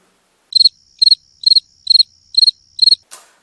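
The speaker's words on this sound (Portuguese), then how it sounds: "Só os grilos." Crickets chirp in six evenly spaced, trilled pulses about half a second apart against near silence, ending with a brief soft click.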